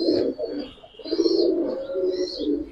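Silver khaki pigeons coo softly nearby in a series of low, rounded, rolling calls with short pauses between phrases, and a faint higher chirp now and then.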